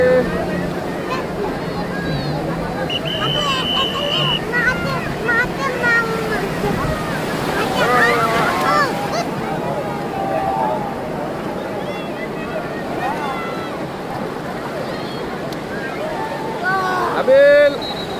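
Ocean waves wash and roar continuously along the sea beach at Cox's Bazar, with heavy wind buffeting the microphone, while people talk excitedly over the surf throughout.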